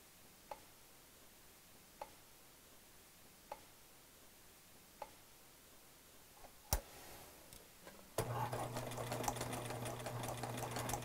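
A sewing machine runs a zigzag stitch over crochet thread laid on tulle. Soft regular ticks come at a steady pace, then the motor starts and a loud continuous whir takes over near the end.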